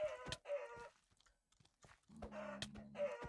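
A person vocally imitates a chicken, with clucking and crowing-like bursts in several loud, repeated phrases separated by a short quiet gap.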